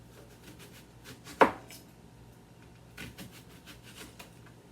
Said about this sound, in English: So let me chop this onion.